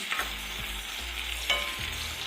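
Curry leaves fry in hot oil for a moong dal tempering, giving a steady close sizzle with a few stirring scrapes in the pan and no voices.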